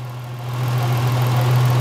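Chevrolet LUV D-Max engine with a fault causing loss of power, a steady low idle hum that swells slightly as the throttle rises, close and alone without talk.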